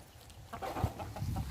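Chickens on a farm cluck in low, repeated bursts, close and moderately loud, with no talk over them.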